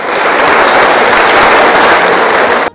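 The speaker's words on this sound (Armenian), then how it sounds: "ու այլևս շարունակել անհնար է, ծափահարում են" Dense, loud applause from an audience filling the hall at a name announcement on an Armenian Sunday program, steady and sustained throughout with no voices over it.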